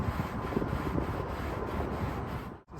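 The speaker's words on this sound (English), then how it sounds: "I like to wipe the glue up because it takes it forever to sand" Wood glue being wiped up with a rag from a glued-up butcher block countertop, a close, continuous rubbing swish with a faint pulsing rhythm that stops abruptly near the end.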